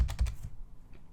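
Computer keyboard keys pressed while animating keyframes on a computer, a quick burst of four close clicks followed by a faint lone tap, with no voice.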